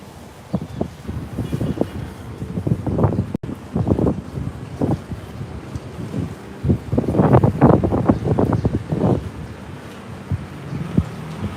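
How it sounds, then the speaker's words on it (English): Strong outdoor wind buffets the microphone in rough, low rumbling gusts that rise and fall for about twelve seconds, loud and close, with no clear voices over it. "it could be the wind might be causing a problem. Yeah, it's a pretty good wind here today."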